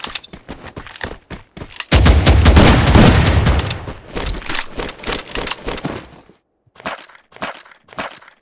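Gunfire in the mobile shooter game Free Fire comes in sharp bursts, with a dense, loud volley in the middle and scattered single shots and short clusters after it.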